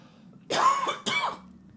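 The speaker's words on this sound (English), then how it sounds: "Still coughing up a lung" Two quick, harsh coughs in a row, close and fairly loud, followed by quiet.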